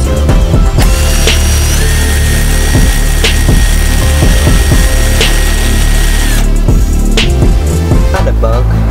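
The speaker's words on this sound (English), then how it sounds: "Got the drill, hopefully it works." Power drill boring a hole through a car exhaust part while fitting a Y-pipe, a steady loud whine broken by short grinding bursts and brief pauses, close up with no talk.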